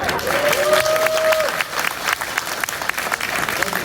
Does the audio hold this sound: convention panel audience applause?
yes